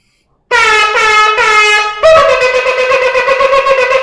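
A shofar is blown close by in a long tekiah blast, a loud, buzzing horn tone that begins abruptly, shifts pitch partway through and then holds with a slight wavering pulse until the end.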